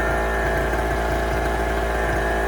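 A small 0.7 kW square-frame generator engine runs steadily at working speed, a loud continuous mid-pitched drone with a constant hum and no pauses.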